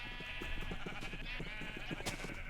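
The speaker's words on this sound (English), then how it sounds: "noisy sheep" Sheep in the Minecraft video game bleat repeatedly, overlapping short cries in quick succession against a bright, steady game background tone.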